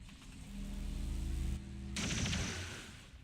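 A squad fires guns in the video game XCOM 2: dense, rumbling gunfire with a sharp, brighter burst near the end, heard fairly quietly.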